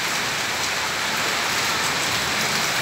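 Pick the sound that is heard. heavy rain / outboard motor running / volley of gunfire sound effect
heavy rain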